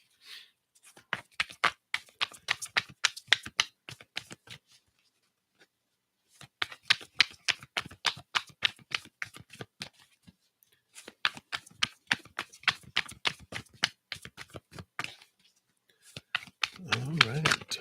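Tarot cards being shuffled and handled in three long bursts of rapid crisp flicking and riffling, separated by brief pauses, close and fairly quiet, with faint voice-like sounds in places.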